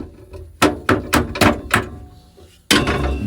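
A rusty bolt is hammered out of a sandblasting cabinet: five sharp, loud metallic knocks in an uneven rhythm, a pause, then one more heavy strike ringing out close by.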